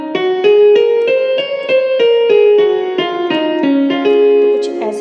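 Yamaha keyboard on a piano voice with transpose set to zero, a short sequence of clear, bright keyed notes played one after another at moderate volume, close and alone.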